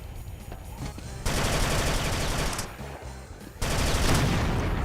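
Chaingunner enemies in the Brutal Doom mod fire loud, dense rapid bursts that drop off briefly and then resume even harder.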